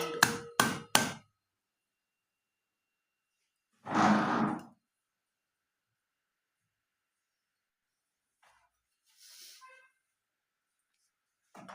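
Ingredients pounded with a pestle for spiced buttermilk: three sharp, close knocks in quick succession, then a single heavier thud a few seconds later, followed by faint scattered sounds and long near-silent gaps.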